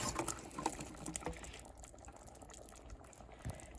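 Ground chicken chili simmering in a pot as corn is added, with soft bubbling and wet patter, a few louder plops early on, then quieter burbling.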